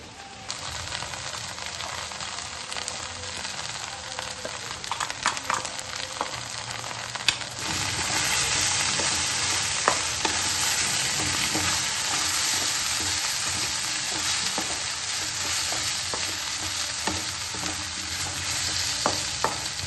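Steady sizzling in a hot pan as ground spice powder is stirred in with a spoon, scraping continuous and close, growing slightly louder partway through.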